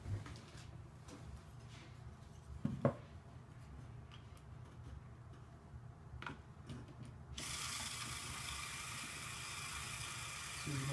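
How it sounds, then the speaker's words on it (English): A small Lego motor drives the load turner of a ball factory build, a steady low whirring mechanical hum running throughout, with a brief clack near the start and a brighter hiss taking over in the last few seconds. "And we'll connect a motor."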